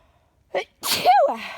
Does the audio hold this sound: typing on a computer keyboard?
no